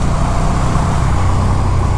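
Road traffic rumbles steadily and loudly around a 2019 KTM 1290 Superduke R street motorcycle as a truck approaches and is passed, a continuous low engine drone with no voices.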